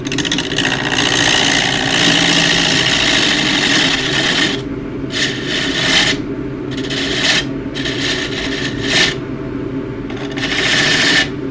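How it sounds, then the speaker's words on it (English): A 3/4 inch gouge cuts the wooden rim of a square dish turning on a lathe, giving a steady close rasping scrape that breaks into intermittent bursts toward the end. "I might use the 3/4 inch gouge just to get the rim done."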